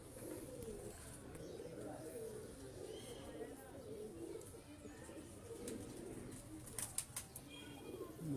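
Low, murmuring pigeon coos roll on continuously with soft rustling and a few brief flutters, close by, while voices talk faintly in the background.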